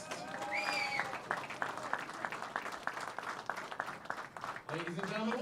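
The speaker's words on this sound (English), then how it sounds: "one more round of applause for all of our finalists" A crowd at a 2021 Wisconsin high school singles bowling championship gives the finalists a round of applause, scattered claps carrying at moderate volume while an announcer talks over it.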